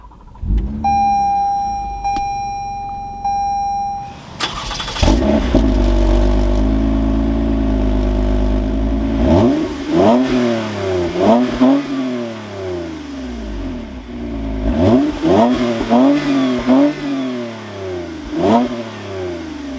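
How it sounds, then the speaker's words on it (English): A 2020–2023 Toyota Camry TRD engine fires up after a chime, settles into a loud idle, then rises in several sharp, close revs with a deep exhaust note. "keeping my foot on the brake, we can go ahead and fire it up"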